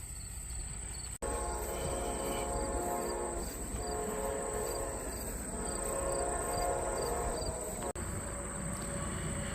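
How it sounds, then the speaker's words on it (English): A train rumbles steadily past nearby with a continuous rolling clatter, its high whine persisting throughout and no voices heard. "A train just went by."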